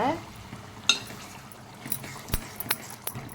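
Chicken pieces coated in gongura stirred in a frying pan, soft sizzling under scraping spatula strokes with a few sharp metallic clinks against the pan, close and moderately loud.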